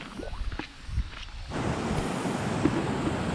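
A river flows beside a jungle path near a cave in the Bhutan border area, heard as a steady broadband rush of water mixed with wind buffeting the microphone, growing louder and fuller after the first second and a half.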